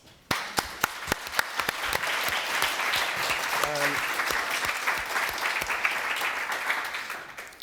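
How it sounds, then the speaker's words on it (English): An audience at a literary reading claps for festival volunteers, a steady round of applause with some sharper nearby claps and a brief voice heard over it. "can we have a round of applause to all the volunteers"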